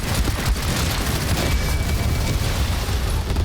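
Rapid chains of explosions in the video game Far Far West, elemental blasts from a crowd of exploding enemies, form a loud, dense, continuous rumble of overlapping booms and bursts.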